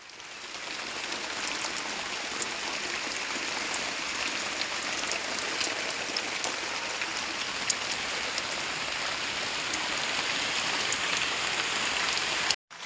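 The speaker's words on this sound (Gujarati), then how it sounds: "અરે બહુ જોરદાર પડે વરસાદ." Heavy rain pours steadily in a village, a dense, loud, even hiss of drops drumming on surfaces without letup, cut off abruptly at the end.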